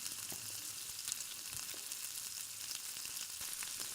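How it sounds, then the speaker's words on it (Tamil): Prawns frying over a low flame in a pan, giving a steady, soft hiss of sizzling oil with faint pops and light stirring clicks throughout, no voices. "ஒன்று ஒன்றா போட்டு அப்படி ஃப்ரை பண்ணிக்கோங்க."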